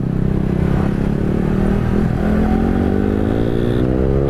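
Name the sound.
motorcycle with loud open exhaust accelerating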